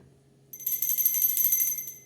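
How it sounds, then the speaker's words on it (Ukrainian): A single bell rings out during a memorial ceremony, starting abruptly after a quiet moment and sustaining a bright, shimmering metallic tone for over a second against a faint low hum. "Лунає сьомий дзвоник"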